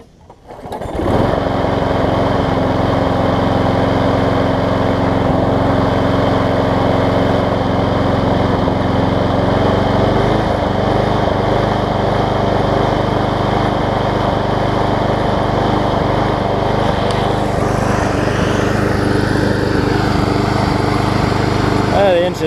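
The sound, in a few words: Craftsman self-propelled lawn mower engine running on new carburetor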